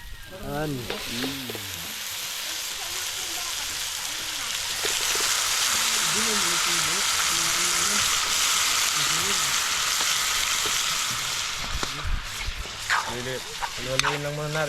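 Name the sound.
stirring carrots in frying pan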